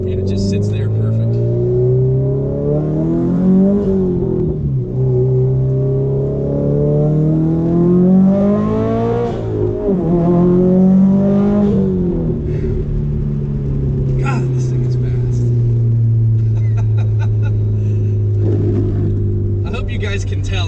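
A Subaru STI on a dyno revs hard, loud and close, its engine pitch climbing and falling in several long sweeps before holding a steady high drone, with a brief burst of speech or higher noise near the end.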